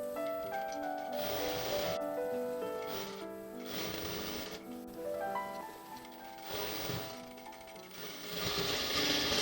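A sewing machine stitches the folded strap of a little girl's dress, running in steady loud bursts with brief pauses between runs, its motor whine and rapid needle chatter close and continuous.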